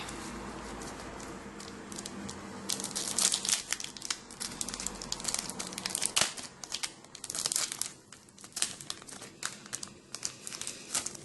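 Close, loud crinkling and crackling of a foil Pokémon booster pack being torn open, with sharp irregular bursts of tearing and rustling that build and continue throughout.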